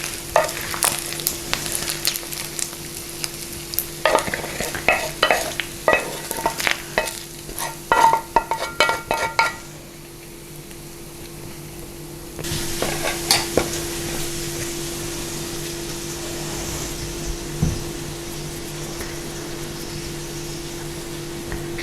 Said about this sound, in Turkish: Sonra bunun üzerine bütün döneri ekleyelim.